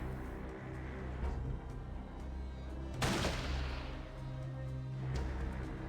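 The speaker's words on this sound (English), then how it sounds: "Is he shooting me?" Gunfire in Fallout 2 (1998): one sharp, loud shot cracks out partway through over a steady droning game background, with fainter combat noise around it.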